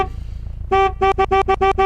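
A car horn in the off-road racing game Offroad League Online honks once in a longer blast, then six short rhythmic toots in quick succession, loud and clear over a low engine rumble.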